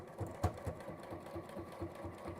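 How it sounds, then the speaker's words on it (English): A domestic sewing machine stitches fabric up close, giving a quiet, rapid mechanical whirr with a regular rhythmic thump, heard alone with no talking. "With my sewing machine,"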